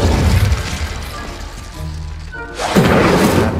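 A fire spell cast in the video game Hogwarts Legacy erupts as a loud whooshing blast with a deep boom, preceded by crackling game ambience and a short tonal chime.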